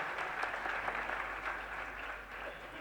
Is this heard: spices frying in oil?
no